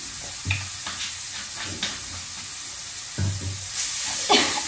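Soy sauce added to a hot pan and stirred, giving a steady hiss of sizzling with a few soft scraping strokes of the utensil, close and continuous, without speech.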